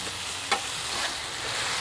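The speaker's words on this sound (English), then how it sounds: "Cheese is frying up onto the grill" Cheese for a Philly steak and cheese sandwich fries on a flat grill, an even, continuous close sizzle with a single faint tap partway through.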